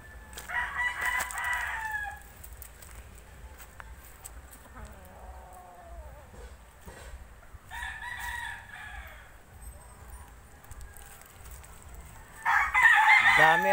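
Gamecocks raised for cockfighting crowing, three separate cock-a-doodle-doo calls spaced several seconds apart, the last one closest and loudest, with faint ambient noise between them.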